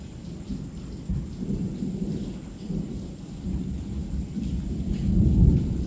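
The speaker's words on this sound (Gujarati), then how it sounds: "વાદળ વાદળ ગરજી રહ્યા, વીજળીઓ થઈ રહી." Thunder rumbles low and rolling over steady rain in Mehsana, the deep growl swelling louder toward the end.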